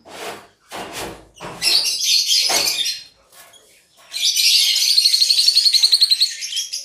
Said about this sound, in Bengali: আর এখানে দেখো একদম পুরো ঝাঁক ধরে ইয়েলো ফিশার আছে, আর এখানে এর সাথে আছে গ্রিন ফিশার আছে